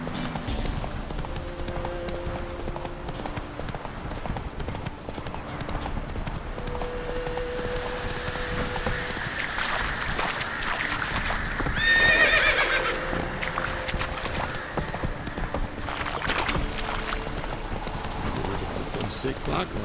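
Horse in The Witcher 3 trotting with a steady, close clip-clop of hooves and an occasional neigh, continuing beneath talking and game sounds.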